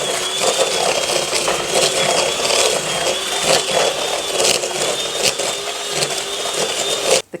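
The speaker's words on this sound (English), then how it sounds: "just for quickness I'm going to use my electric whisk" An electric whisk creams butter and sugar in a bowl, giving a steady, loud, high motorized whine with a gritty rattling texture for about seven seconds before stopping abruptly. There is no talking.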